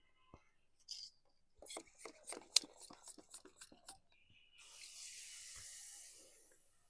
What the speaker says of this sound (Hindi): इसको स्प्रे पर हम इसमें हम भर लेते हैं और इसका हम छिड़काव ये कर देते हैं